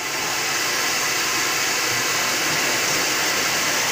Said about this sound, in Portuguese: a Vânia vai ligar o secador para nós.